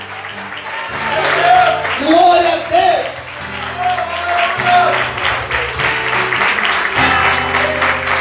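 A church congregation applauds during a worship service, a wash of many clapping hands under sustained musical tones, while a voice calls out loudly over the crowd.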